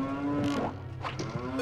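Cows in the video game Zelda Ocarina of Time (randomized) give a pair of loud, close, drawn-out moos in quick succession, heard alone.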